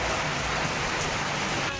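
Steady rain pours down near a railway level crossing as a train approaches, a dense, loud, even hiss of drops on surfaces, constant throughout with no talking.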